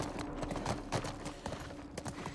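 Horse hooves gallop in a steady rapid clip-clop rhythm through The Last of Us, close and continuous over busy game noise.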